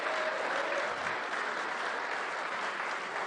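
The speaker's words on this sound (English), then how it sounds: "So let's give the SCORE staff a big applause." Audience applause at the 56th SCORE Baja 1000 off-road race awards ceremony, a dense, steady wash of clapping from a large crowd that holds evenly throughout with no voices over it.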